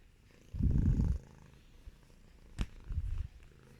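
A cat purrs in short, low rumbling bursts close to the microphone, with quiet pauses in between.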